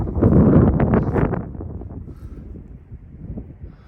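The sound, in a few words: wind blowing over a meadow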